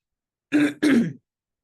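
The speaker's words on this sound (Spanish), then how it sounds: "el estar conversando me genera también la carraspera y la tos" A hoarse woman clears her throat twice in quick succession, a short, close, raspy throat-clearing with a slight cough quality, alone in a quiet room during an online information session.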